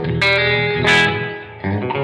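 An electric guitar played through a Blackstar amp set to US voicing with 6L6 power tubes and spring reverb, a few short distorted chord stabs ringing out with reverb tails.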